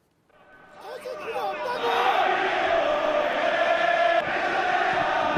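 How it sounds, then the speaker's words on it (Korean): Daejeon Hana Citizen football fans roar and chant in a packed stadium, the crowd noise swelling up from near silence within the first two seconds and then holding steady and loud. "실제로 경기마다 대전 축구 팬들의 응원 소리 경기장을 가득 채우고 있습니다"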